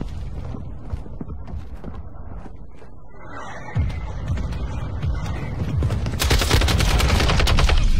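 Lachmann 762 rifle fire in Modern Warfare 2, sparse distant shots at first, then sharp close bursts that build into rapid, loud, continuous firing.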